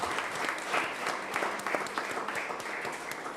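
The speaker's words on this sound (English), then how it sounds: "Please give a lot of applause for all of us." An audience at a technology roundtable on IoT applauds, a steady patter of many hands heard at a distance, moderately quiet and without talk.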